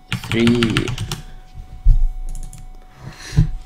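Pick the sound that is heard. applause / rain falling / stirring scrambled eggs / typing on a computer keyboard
typing on a computer keyboard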